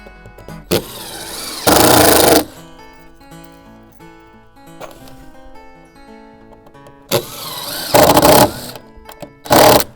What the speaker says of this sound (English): my drill it's broken inside. It doesn't hang on to the bit.